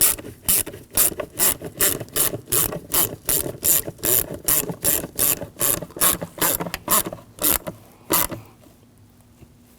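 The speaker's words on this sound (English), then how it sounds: "And I'll tighten down the clamp." Steady back-and-forth ratchet clicks as a radiator hose clamp is tightened on a 2007-2013 BMW 328i 3.0L inline-six, close and loud, a regular run of about twenty strokes before stopping.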